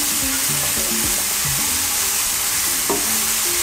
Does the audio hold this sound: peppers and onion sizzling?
yes